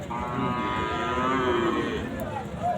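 A long, steady moo from cattle at a crowded village bull market in Chandaikona, moderately near and sustained over most of the moment, with market chatter and background noise beneath it.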